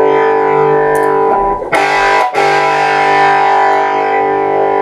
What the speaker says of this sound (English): Now we're going to give it some distortion.